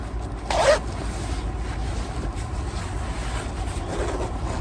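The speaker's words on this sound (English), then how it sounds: "Okay, I zip all the way up." A windproof jogging jacket being zipped all the way up, one short close rasp near the start, followed by steady wind-like rumble and fabric rustle with no talking.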